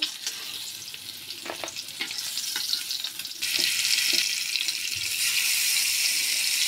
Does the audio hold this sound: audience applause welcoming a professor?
no